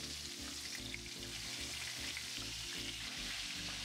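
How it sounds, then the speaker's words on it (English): Chicken fried steak cutlets sizzle steadily in hot frying oil in a pan, a dense, continuous crackle with no talk over it. "now I'm going to fry up the rest of my cutlets"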